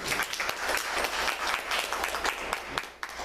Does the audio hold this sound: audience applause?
yes